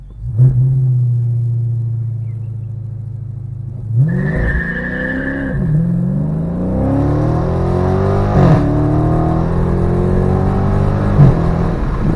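A Scat car launches hard on a manual gearbox, its engine idling loudly and then revving up with wheelspin and a squeal, rising in pitch before a short shift to second and continued acceleration, close and loud.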